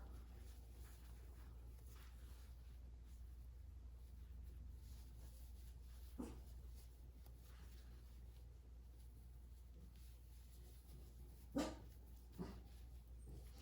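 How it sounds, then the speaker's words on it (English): Dog in the background of a quiet room giving a few faint, scattered barks and whimpers, spaced out over a low steady hum. "Sorry if you can hear my dog."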